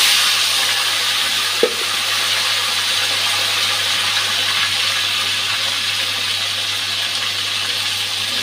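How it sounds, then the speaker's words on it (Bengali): Potato pieces frying in oil in a pan for a fish and potato curry, giving a steady, even hiss of sizzling with one brief sharp tap partway through, fairly close and without talk. "এখন আলুটা ভাজতে দিয়ে দিচ্ছি।"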